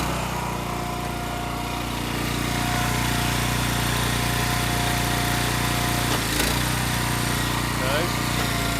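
The hydraulic pump and motor of an Eastonmade 9-16 log splitter run continuously, a loud, steady engine drone with a constant hum that stays even throughout, with a brief clank near the end.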